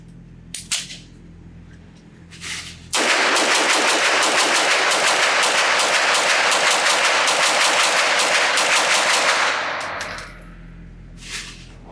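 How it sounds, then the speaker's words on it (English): A B&T KH9 Covert pistol fitted with a pistol brace is fired at an outdoor range, emptying a full magazine in one long rapid string of loud, close shots lasting about seven seconds, with brief handling noises before and after. "Let's just load up one of these magazines to capacity and see how fast I can shoot it."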